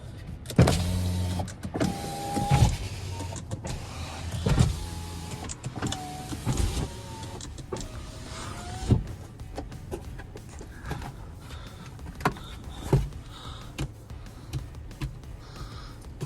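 An electric mirror adjustment motor on an Audi A4 whirs in several short bursts, with clicks and small knocks between them, heard close inside the car with no talking.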